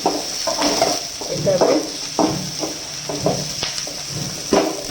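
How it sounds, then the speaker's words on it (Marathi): Chopped onion and coconut roast together in a pan for a village-style mutton rassa, with a crackling fry under repeated close scrapes and stirs in an uneven rhythm. "आता खोबरं पण टाकून एकत्रच पूर्ण भाजून टाकत आहे मी"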